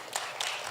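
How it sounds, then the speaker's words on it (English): An audience at the 2025 Bank of Nevis Tourism Youth Congress claps for a presenter; a brief, steady burst of applause fills the room at moderate level. "Everybody give Mr. Daniel a round of applause"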